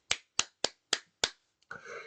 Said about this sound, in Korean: 이분한테 박수를 쳐드리고 싶습니다